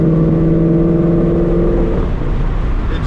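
A Mustang GT V8 with a Corsa Xtreme cat-back exhaust rumbles steadily up close, with a deep droning tone that fades into broader exhaust roar toward the end.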